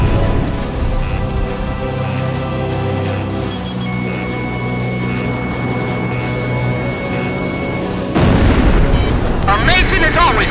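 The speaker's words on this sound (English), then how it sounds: "Missile hit!" Missile striking its target and exploding in the Ace Combat 5 flight game, a sustained rumbling blast over jet engine drone with a louder burst toward the end, mixed with game voices.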